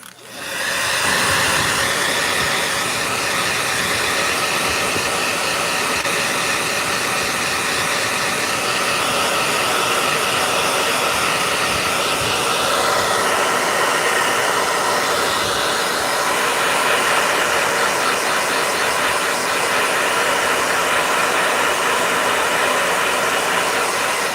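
A blow dryer roars steadily for over twenty seconds, a loud, unbroken broadband whoosh close by that starts abruptly and holds almost unchanged throughout, with no voices.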